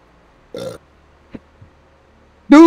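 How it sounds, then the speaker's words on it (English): A person burps twice, loud and close: a short belch early on, then a longer, deeper one at the end, with near silence and a couple of faint clicks between them. "whoever just burped"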